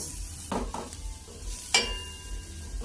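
Onion frying with ginger in a pan, a soft sizzle with a few scrape and clink stirs, fairly quiet and close.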